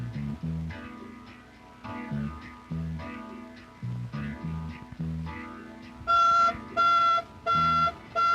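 A burglar alarm at a business premises sounds in repeated pulsing electronic beeps, loud and steady, the pattern shifting to a higher, harsher tone near the end, with no voices.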